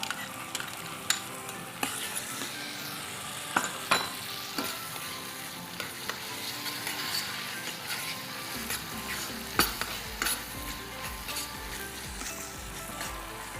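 Tomato paste and tomato sauce sautéing in a pan at a culinary event, with a steady soft sizzle and frying hiss, occasional stirring scrapes and light utensil clicks throughout, no talking.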